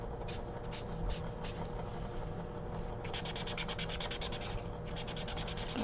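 Blick marker with chisel edge and brush tip blending bright yellow color on paper, giving a steady close scratchy rubbing with short repeated strokes throughout.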